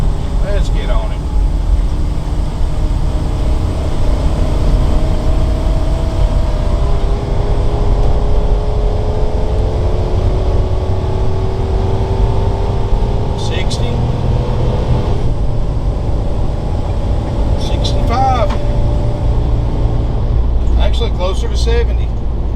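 A 2014 Fleetwood Jamboree Searcher 25K Class C motorhome with 50K miles drives along a road, giving a steady, continuous engine and road rumble throughout, with a few faint rattles and people talking inside.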